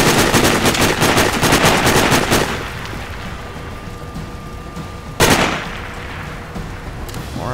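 Rapid automatic gunfire in the Sniper Ghost Warrior video game rattles loudly for a couple of seconds, then stops, and a single sharp shot cracks out later over quieter background game ambience.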